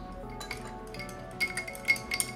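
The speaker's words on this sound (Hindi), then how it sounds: "नेक्स्ट फ्यू आइस क्यूब्स, अच्छे से इसको मिक्स करेंगे" Ice cubes clinking against a glass of water as a summer weight-loss morning drink is stirred, with several light, bright ticks close by over a faint background hum.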